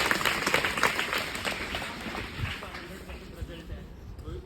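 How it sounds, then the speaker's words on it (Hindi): A school audience applauding, a steady wash of many hands clapping that fades gradually over several seconds, with voices mixed in beneath. "इसके लिए ताली तो बजानी चाहिए आपको।"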